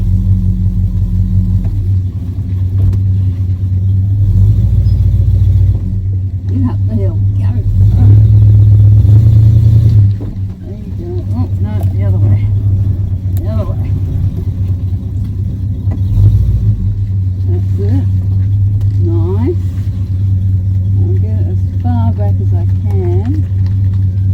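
A long truck towing a caravan reverses with a steady, loud low engine rumble that rises and eases as it backs up, while a person speaks over it.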